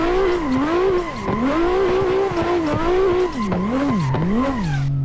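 A Lexus driven hard in the Assetto Corsa racing game, its engine note rising and falling steadily as tires squeal through continuous drifting, loud and unbroken with no talk.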